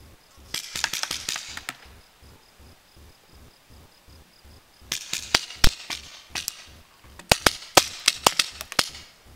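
Paintball marker shots snap in rapid bursts during an outdoor paintball game, sharp close pops in quick volleys separated by a quieter stretch, with no talk.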